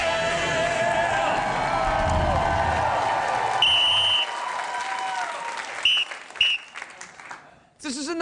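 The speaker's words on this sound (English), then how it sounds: "This is enough clapping" A television late-night talk show studio audience claps loudly and continuously, a dense wash of applause that thins out as a few short electronic tones sound and a voice briefly cuts in.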